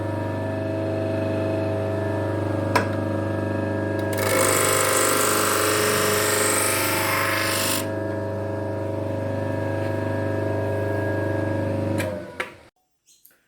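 A blade is sharpened with one pass on the burr side, a rough grinding hiss lasting a few seconds over a constant machine hum that then cuts off abruptly.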